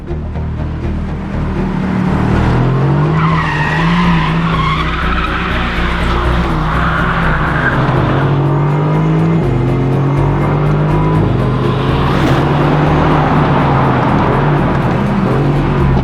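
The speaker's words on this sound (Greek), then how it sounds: "λίγη στεγνή άσφαλτο για να καπνίσουν τα λάστιχα" Loud, sustained tire squeal as a Mercedes-AMG GT C Roadster skids across dry asphalt, its engine roaring and shifting pitch throughout.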